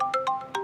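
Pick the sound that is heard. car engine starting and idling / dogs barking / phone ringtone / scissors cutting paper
phone ringtone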